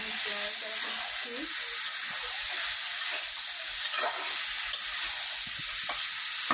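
A special spice mix sizzles and fries in a pan while being stirred, a continuous loud hiss with scraping stirring strokes near the start.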